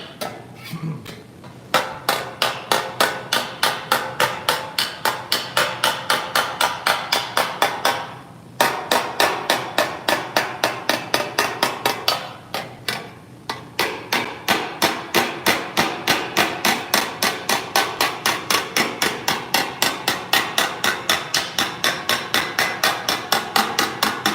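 Rapid, rhythmic metallic hammer blows on sheet metal over a dolly, ringing in long fast runs with a couple of short pauses, loud and close.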